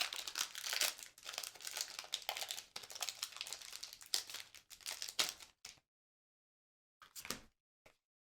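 A Pokémon card booster pack wrapper for Evolving Skies crinkles and tears close by in dense, continuous plastic rustling, then falls silent with a couple of brief crackles afterward.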